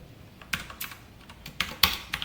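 Keys on a computer keyboard tapped while code is typed, a sparse run of about eight quiet, irregular clicks with short pauses between them, no voices.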